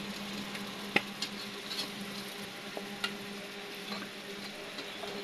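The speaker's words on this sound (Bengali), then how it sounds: "মাছগুলো তো এখনো কষানো হচ্ছে।" Fish frying in a pan in a home kitchen gives a steady, close sizzle with scattered small pops and faint stirring clicks, continuous throughout with no talking.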